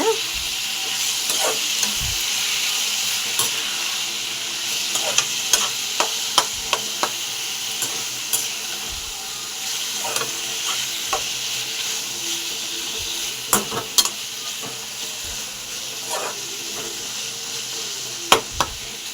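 Masala with chopped tomatoes sizzles and fries in a pan for egg thokku, a steady close hiss broken by occasional scrapes and taps of a stirring spoon.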